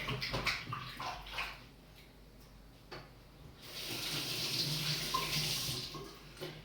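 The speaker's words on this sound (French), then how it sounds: "Je me lave les mains." Hands are washed under a running kitchen tap, with uneven splashing and bursts of water at first, then a steadier gushing stream close by.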